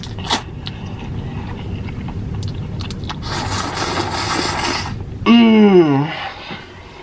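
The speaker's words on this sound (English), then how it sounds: "I slurp like you, Veronica." Someone eating spicy fire noodles slurps them in a long, wet, noisy pull, close to the mic over background room noise, then a short voiced sound follows.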